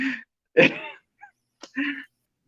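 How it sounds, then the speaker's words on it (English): A man clears his throat in a few short, rough bursts separated by silent gaps, close and dry, with brief voiced grunts mixed in. "You just need to clear your throat out a bit."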